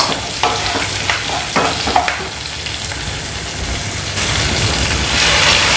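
Onions and curry leaves frying in hot oil for a peanut kuzhambu give a steady close sizzle with scraping stirs in the first seconds, then the crackle grows louder and brighter toward the end.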